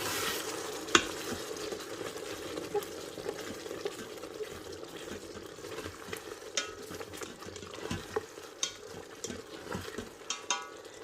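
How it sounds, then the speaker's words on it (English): A spoon stirs tablespoon of salt into mashed tomatoes in a pressure cooker pot, giving a steady wet scraping churn with soft sizzle and scattered spoon knocks, no talking. "we're just going to add 1 tablespoon of salt. And then just stir that in"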